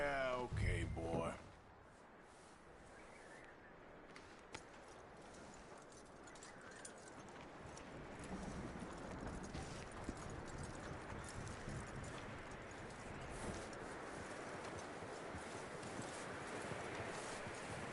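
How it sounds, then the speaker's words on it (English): A horse's hooves clip-clop steadily in a video game, a quiet rhythmic plodding that continues after a brief louder burst at the start, with people talking over it. "That looks like a decent horse."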